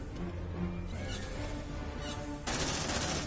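Sentry gun turrets in Aliens: Dark Descent fire dense, continuous automatic bursts, rattling loudly throughout and growing harsher and brighter near the end, with no talking.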